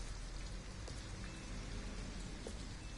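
Steady rain pours down in Detroit: Become Human as an even, continuous hiss with no voices or breaks.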